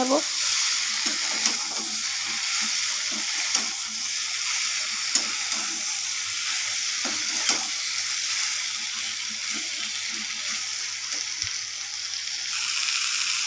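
Soybean chunks, pointed gourd and potatoes fry with spices in a pan, a continuous close sizzle broken by regular scraping and clinking of a spatula as everything is stirred.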